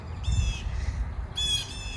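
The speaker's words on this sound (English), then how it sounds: "These birds are crazy. What is happening?" Crows squawk and caw in a garden in spring, two loud harsh calls close by, one after the other, over a low rumbling background.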